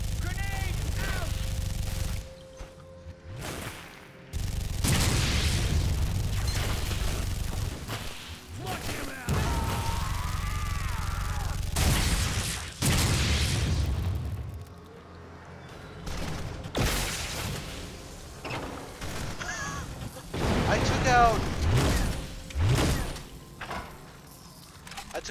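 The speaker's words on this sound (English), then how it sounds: "it seems like they want me to use my grenades a lot more. Grenade out!" In the video game D.B.:R, a thrown grenade goes off with a heavy, booming blast. It is one of several loud broadband bursts spread among thuds, mechanical noises and a speaking voice.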